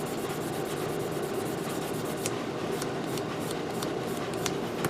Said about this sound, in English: Then we move on to a part like this, sanding stick like this.